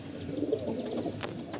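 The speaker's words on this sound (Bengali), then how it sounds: "আর এই যে কিছু কবুতর খাবার খাইতে আসছে" Pigeons that have come to feed coo in low, rolling murmurs that run on continuously, moderately close, with a few soft scratchy clicks near the end.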